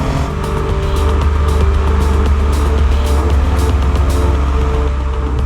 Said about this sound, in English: it's still got that sort of lusty BMW 6 Series sound to it as well